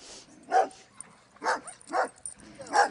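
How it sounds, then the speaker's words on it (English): Dogs scuffling at a dog park, giving several sharp barks and yips in a broken rhythm, close and fairly loud with quieter scuffling between them. "I'm going to show you a scuffle at the dog park."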